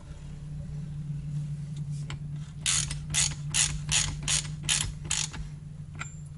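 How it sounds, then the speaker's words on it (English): A fork cap being screwed back onto a bicycle suspension fork while installing springs makes a rapid series of about eight crisp ratcheting clicks, close and clear over a steady low hum. "Screw the cap back on."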